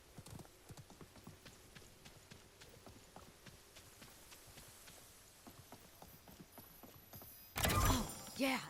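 A horse mount's hoofbeats in the game Realm Royale, a steady clip-clop gallop running quietly under the action, with a short louder burst of other game noise near the end.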